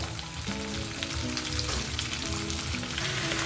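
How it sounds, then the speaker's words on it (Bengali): Bottle gourd tipped into a hot wok for a gourd and prawn dish, a loud, dense sizzle that carries on steadily and close up with no talk. "পিসি এবারে কড়াইতে লাউ দিয়ে দিল"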